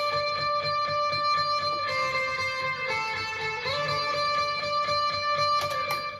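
A sustained, effected electric guitar line with long held notes and bends, moderately loud, no voices.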